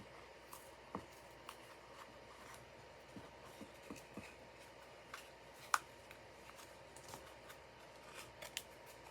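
Scissors snipping felt off a Dollar Tree Halloween sign, quiet scattered crisp cuts at an uneven pace with a few sharper snips, close but faint over a soft room hiss.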